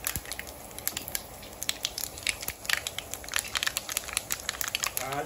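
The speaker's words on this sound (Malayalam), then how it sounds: "നന്നായിട്ട് ചൂടായിട്ടുണ്ട് അതിനകത്തേക്ക് ഞാൻ 1/2 ടേബിൾ സ്പൂൺ കടുക് ഇട്ട് കൊടുക്കണം" Mustard seeds tossed into hot oil in a pan pop and crackle in dense, rapid bursts over a steady sizzle, close up, with no talking.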